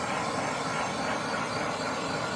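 An aluminum part is preheated before spool gun welding on a MIG setup in cold weather, giving a steady, dense, roaring hiss that stays constant and unbroken throughout.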